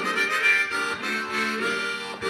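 A G harmonic minor harmonica plays a few sustained, reedy chords and notes in a short phrase, close and clear and alone, at a cabaret performance.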